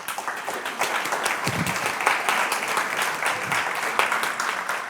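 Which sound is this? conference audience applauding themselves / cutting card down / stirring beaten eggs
conference audience applauding themselves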